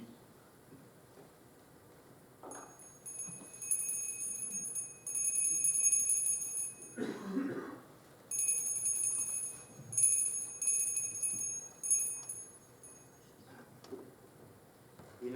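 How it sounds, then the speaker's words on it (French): Hand bell rung in short bursts, bright metallic jingling that starts and stops several times amid quieter pauses and a few muffled movements in a room. "Et ma sonnette ne fait pas assez de bruit."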